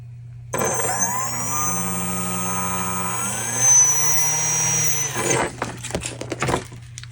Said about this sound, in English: motor connected via various means to an ESC and a servo tester